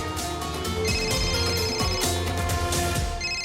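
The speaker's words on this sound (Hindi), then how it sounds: "ये देखिए, फोन आ गया होगा।" A phone rings inside a home during a Hindi TV drama scene, a continuous electronic ringtone with layered melodic tones, steady and fairly loud with no talking over it.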